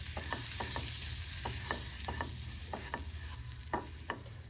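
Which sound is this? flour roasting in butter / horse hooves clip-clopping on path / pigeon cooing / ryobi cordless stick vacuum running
flour roasting in butter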